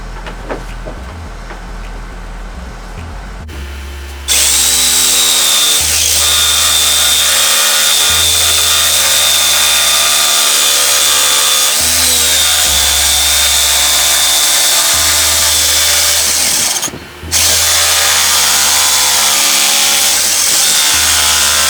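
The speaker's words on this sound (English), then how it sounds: "I'm going to try and attempt to cut these out with the jigsaw." An electric jigsaw cuts pieces from PVC for a chicken trough, a loud continuous buzzing whir that starts after a quieter lead-in and dips briefly once, running close and steady with no talk.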